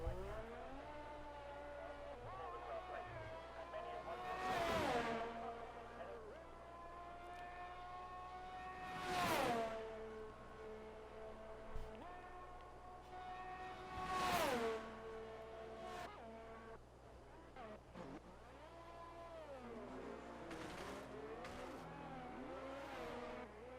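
Formula 1 cars roar in the F1 22 video game during qualifying at a virtual Belgian Grand Prix: high engine whines rise and fall as cars rush past about every five seconds, with gear shifts between passes.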